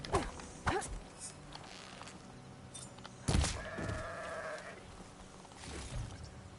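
A goat bleats in the video game Horizon Forbidden West, with a wavering cry midway through, amid footsteps and outdoor game ambience.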